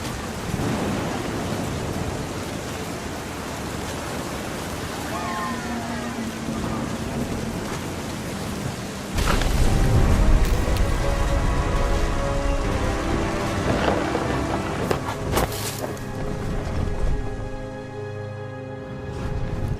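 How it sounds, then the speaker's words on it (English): Stormy rain hisses steadily in What Remains of Edith Finch, with a louder thunder rumble swelling around the midpoint and rolling on through the remainder, over faint background music. "The thunder sounded much too close and full of angry power"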